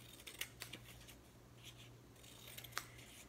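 Scissors cutting out paper pieces: a few quick, faint snips scattered over a quiet room, with a low steady hum underneath.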